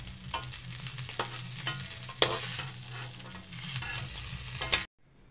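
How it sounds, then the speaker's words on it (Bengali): Fried snakehead fish pieces are stirred in a hot wok, giving a continuous sizzle with repeated scraping and clinking strokes of the spatula at close range, ending abruptly in silence. "একটু আমি গরম করে নেব লাড়ে চাড়ে নেব"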